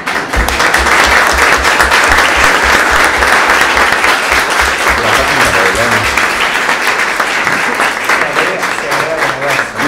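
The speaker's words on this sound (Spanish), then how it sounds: "estos aplausos son para Ida Vitale, que acaba de venir." Loud, sustained applause fills a hall at the Biblioteca Nacional de Uruguay as an audience welcomes the poet Ida Vitale, thick clapping continuing steadily for about ten seconds.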